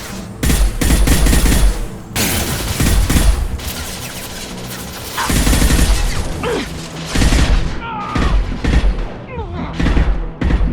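Heavy gunfire in Mass Effect 2: dense bursts of automatic fire and booming shots fill the scene, loud and continuous with brief lulls, mixed with mechanical clatter and voices calling out.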